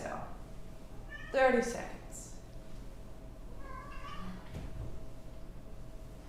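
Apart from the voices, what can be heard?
cats meowing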